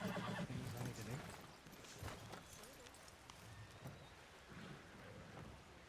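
A horse whinnies in the Red Dead roleplay game WildRP, a loud neigh at the start amid rain and rumbling thunder, followed by faint clip-clop and a voice talking over the stormy background.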